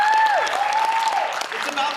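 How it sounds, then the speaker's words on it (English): An audience applauds at a St. Louis Amnesty poetry event, a short burst of clapping with a voice and a whooping call riding over it. "Do some applause for yourself."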